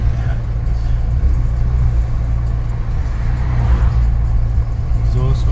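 Ford Raptor pickup truck engine revving in exhaust mode, a steady loud low rumble throughout with a slight rise in pitch near the end, with voices talking over it.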